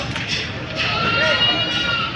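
Goats at a livestock market in Padre Garcia, Batangas, bleat in short wavering cries, fairly close, over crowd murmur.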